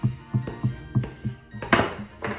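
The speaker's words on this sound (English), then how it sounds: "Sorry for the rattling. I think my tripod is a little too close to my table." A camera tripod knocks and rattles against a crafting table in a string of quick, close, dull thunks, roughly evenly spaced, ending in a sharper clatter.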